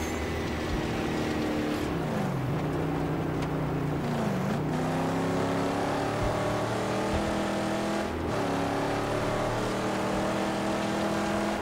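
Car engine in the Mad Max video game drones steadily with rising and falling revs as it accelerates and shifts, loud and continuous throughout.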